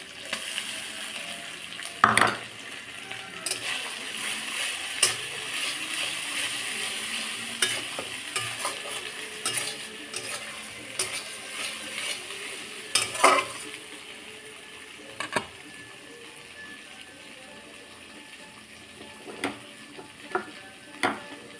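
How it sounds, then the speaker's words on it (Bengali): Chili, cumin and coriander paste frying in a pan for a potato, aubergine and fish curry, with steady sizzling, occasional stirring scrapes and a few sharper clinks of a utensil against the pan. "তারপরে দিয়ে দেবো লঙ্কা জিরে আর ধনে বাটা"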